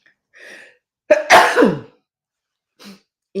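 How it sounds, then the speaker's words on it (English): A single close, sharp sneeze bursts out after a soft breathy intake, followed by a faint short sound, indoors during a behind-the-scenes news interview. "I'm going to sneeze."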